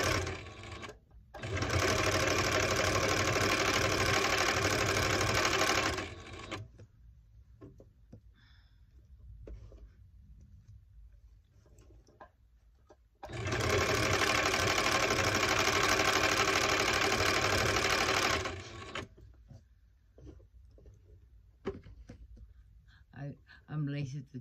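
Home sewing machine stitching fabric in two long bursts of loud, steady mechanical whirring, each lasting about five seconds, separated by quiet gaps with faint handling sounds.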